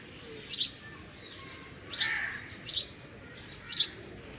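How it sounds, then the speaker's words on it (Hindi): Birds chirp on a quiet morning, with four short bright calls spaced a second or so apart, heard moderately close against a soft steady background and no talking. "यहाँ पे चिड़िया बहुत प्यारा बोल रही थी, तो इसलिए मैं थोड़ी देर के लिए ख़ामोश हो गई थी"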